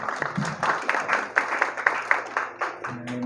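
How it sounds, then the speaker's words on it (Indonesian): Scattered clapping from a small gathering at a Javanese cultural sarasehan on the beach, with uneven claps and a voice speaking over it. "Tepuk tangan penjelasannya luar biasa."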